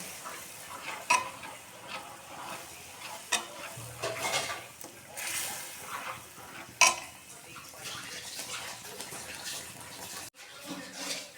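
A potato and semolina snack fries in a wok, with soft sizzling under intermittent stirring and metallic scrapes and clinks against the pan, fairly quiet and close, with a faint voice now and then.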